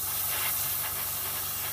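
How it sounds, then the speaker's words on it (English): An airbrush sprays paint onto a scale model during weathering with chipping medium, producing a continuous close, airy hiss that holds steady with no voices. "So what I'm going to do is change the angle I'm spraying at."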